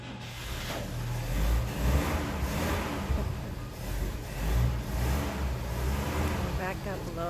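Old museum fire truck engine idling and pulling out, a low rumbling motor with mild revving that holds steady, with people talking nearby.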